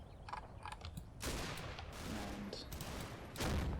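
Sustained heavy machine gun fire in the Combat Mission: Battle for Normandy hedgerow fighting: sharp bursts of rapid shots, with some isolated cracks early on, then long rattling volleys and a loud burst near the end, at a moderate distance.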